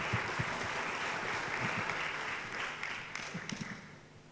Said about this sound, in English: Can we please give them a big round of applause?